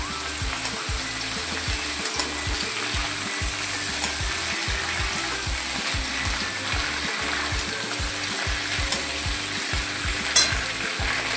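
Malabar spinach (pui) fries in a pan in a Bengali kitchen, giving a continuous close sizzle with a soft, regular stirring scrape throughout and no voices.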